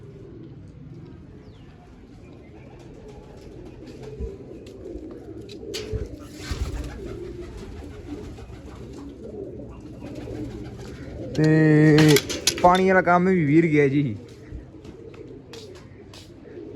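Pet pigeons coo near a loft alongside someone talking, with a louder burst of calls toward the end.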